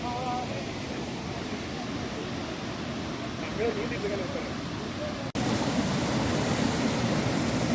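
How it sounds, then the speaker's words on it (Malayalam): Water from the small Kainiri waterfall pours into a whirlpool with a steady, loud broadband rush that continues unbroken apart from a brief dip near the end. "വരുമ്പോൾ തന്നെ ഇവിടെ ഒരു ചെറിയൊരു വെള്ളച്ചാട്ടം നമുക്ക് കാണാം കേട്ടോ"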